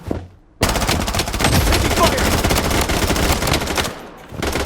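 Sustained, loud automatic gunfire in the video game Bloodstrike rattles in a dense, rapid stream for several seconds, cuts off briefly, then starts again.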